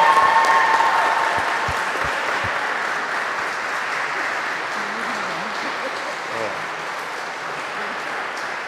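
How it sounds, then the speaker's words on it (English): Congregation in a Catholic church applauds a congratulated couple, a full round of clapping that starts loud and gradually thins, with faint voices murmuring beneath it. "we'll give them a round of applause, everyone"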